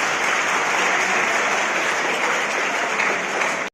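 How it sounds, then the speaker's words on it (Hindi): An audience at a voter-awareness event breaks into loud, dense applause, a continuous roar of many hands clapping that holds steady before cutting off abruptly. "फिर तालियां"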